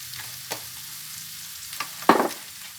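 Snow peas hit a hot pan with garlic butter and shrimp, giving a soft, steady sizzle broken by a few stirring scrapes and one sharper burst of frying near the end.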